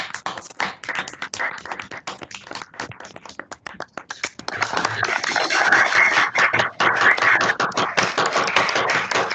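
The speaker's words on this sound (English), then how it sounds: "I think a round of applause is due with the chapter being open" Scattered hand claps from a few people at a student chapter inaugural ceremony, sparse at first and then thickening into a steadier round of applause, close and fairly loud.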